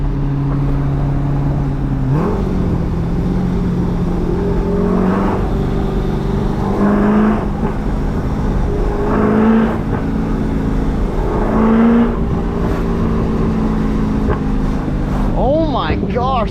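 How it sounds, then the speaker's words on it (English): Cammed C5 Corvette with a 6-speed manual pulling through gears from the driver's seat, engine droning and rising in pitch with each shift, exhaust crackles and pops between, voices talking over the loud cabin. "Gosh, the backfires."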